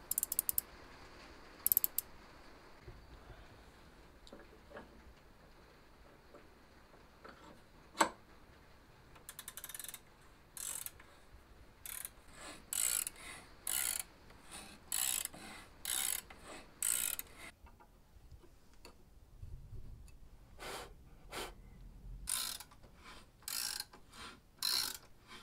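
A tapered reamer is turned by a 17mm ratchet spanner in the bottom of a Windsor chair stump, giving sparse then quickening bursts of sharp ratchet clicks close up, separated by quiet pauses.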